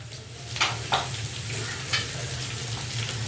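Dried red chillies, eight of them, fry in hot oil with asafoetida, giving a steady close sizzle broken by a few sharp crackles and pops.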